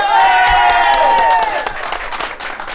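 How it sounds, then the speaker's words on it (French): A television studio audience on a French-language talk show applauds loudly and close, a dense burst of clapping that gradually thins out, with a few cheers mixed in. "le public, aujourd'hui, dès que tu dis première télé, ils applaudissent"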